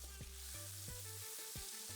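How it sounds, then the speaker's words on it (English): Quiet sizzling of ground chicken frying in a skillet, with a few scraping stirs cutting through the steady crackle. "let's take a moment to hear the sizzle"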